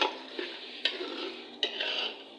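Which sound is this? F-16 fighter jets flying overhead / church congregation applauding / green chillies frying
green chillies frying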